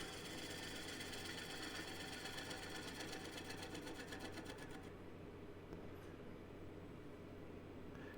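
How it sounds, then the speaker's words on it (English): Wood lathe spinning a bowl blank while a 1/2 inch 55-degree swept-back bowl gouge cleans up the face of a tenon, a steady motor hum with a buzzing cut that stops partway through, fairly quiet and close. "I'm going to clean up the face of the tenon, and I'm using my 1/2 inch 55-degree bevel swept back bowl gouge here"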